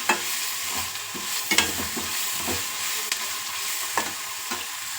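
Onion fries in hot oil until browning, a steady close sizzle broken by scraping stir strokes and light clinks of the utensil against the pan, with no talk.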